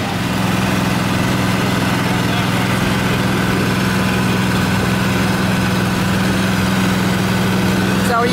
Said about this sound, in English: they have machinery that produces very shiny concrete